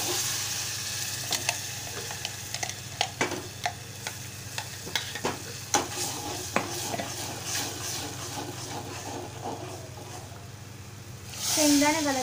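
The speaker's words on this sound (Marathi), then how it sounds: "पालक घालत आहे।" Ground spinach goes into sizzling masala with Malvani spice in a pan. Close spoon scrapes and taps over a low sizzle, then the stirring stops and a sharp burst of hissing rises at the end.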